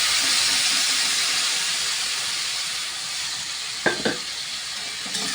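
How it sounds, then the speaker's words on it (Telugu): Tamarind juice poured into a sizzling okra curry in a pan: a steady, loud steamy hiss throughout, with a couple of brief stirring clinks near the end and no talking. "ఈ చింతపండు పులుసుని మొత్తం ఇందులో వేసేస్తాను"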